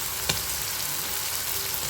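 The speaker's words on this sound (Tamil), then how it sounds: "இப்போ இந்த தக்காளி நல்லா குழைவாக வதங்கி வரணும்" Tomatoes sautéing steadily in a pan, a continuous crackle with one brief tap near the start.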